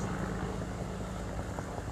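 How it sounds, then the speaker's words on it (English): A police helicopter passes overhead, a continuous low rotor drone and rumble that stays steady and moderately loud across the whole moment, with no voices over it. "That's a police helicopter that you hear."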